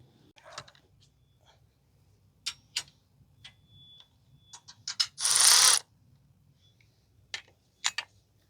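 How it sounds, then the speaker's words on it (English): A ratchet wrench tightens bolts on a Princess Auto 12 ton hydraulic shop press, with sparse close clicks and metal taps, one short rasping burst, and quiet gaps in between. "So I'm just going to tighten everything down now."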